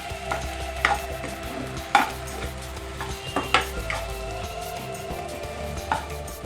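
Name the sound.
mixing mashed boiled potatoes with spices in a bowl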